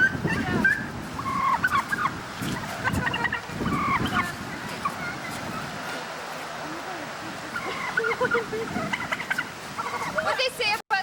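Domestic turkeys gobble repeatedly in an outdoor enclosure, loud and near in scattered bursts, while people talk nearby over the birds.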